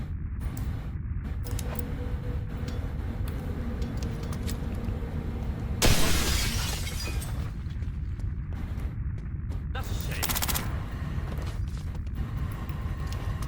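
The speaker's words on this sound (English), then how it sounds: "here we will again use the grenade" Grenade blast in the shooter game IGI 2 during an island assault mission: one sudden broadband burst about midway, loud against steady background game ambience, with a short decaying tail.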